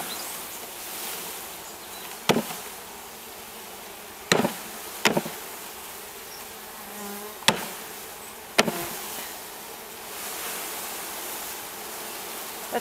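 A two-pound package of honeybees hums as a steady soft buzz while being dumped into a hive, broken by several sharp knocks and bumps of the package container against the hive.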